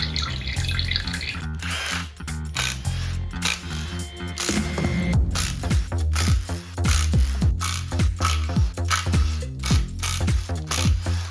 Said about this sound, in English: So we're going to flip the motor over and take the oil pan off.